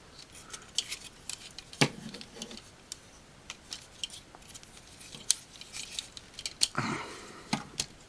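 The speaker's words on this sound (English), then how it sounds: "pop these off, and just kind of mess around and unclip everything" Small plastic parts of a Transformers Prime Robots In Disguise Thundertron toy clicking and snapping loose, a scattered run of sharp close ticks and pops with quiet gaps between.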